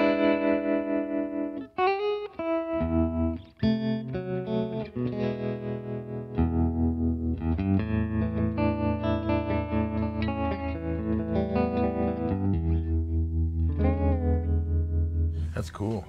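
Electric guitar played through a pedal's '63 tube' setting, sustained chords and notes with a warm, pulsing tremolo and reverb, loud and continuous throughout.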